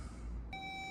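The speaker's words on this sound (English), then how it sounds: "My power probe will beep once I get it all hooked to the battery" A single steady electronic beep from a Power Probe circuit tester hooked to a Buick's battery starts abruptly halfway through, a clear high tone over low background rumble.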